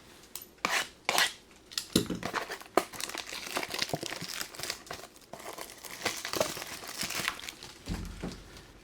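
2025 Topps Chrome trading card packs being ripped open, foil wrappers crinkling and tearing in close, irregular bursts with handling rustles between them, fairly quiet and without speech.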